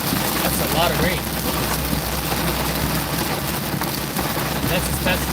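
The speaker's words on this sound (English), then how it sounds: "That's a lot of rain." Heavy rain drums steadily on a car's roof and windshield while driving, a dense, loud wash over a low engine rumble that lasts throughout.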